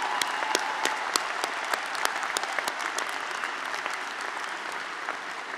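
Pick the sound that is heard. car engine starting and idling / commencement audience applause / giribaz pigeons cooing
commencement audience applause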